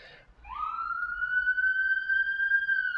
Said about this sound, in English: we have an ambulance crossing over the bridge, and it's about to pass me like right now.